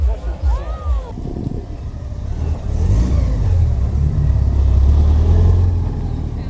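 At a night-time car meet a Porsche engine revs up, rising into a loud, sustained roar that swells and holds near the listener while people talk nearby.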